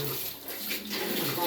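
A kitchen tap fills with water in a steady, loud rushing stream close by, with a voice talking over it.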